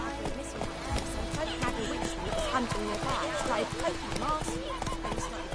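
Roach, Geralt's horse in The Witcher 3, trotting through White Orchard with steady clip-clop hoofbeats at moderate loudness, layered under game music and bursts of talk.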